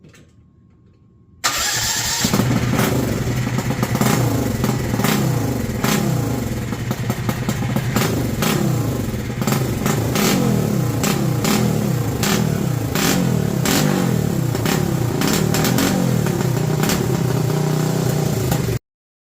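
A Thump-Air Part 103 four-stroke ultralight engine with a billet head, untuned carburetor and timing, catches after a quiet moment and runs loud and close with a rapid, uneven putter and repeated revs.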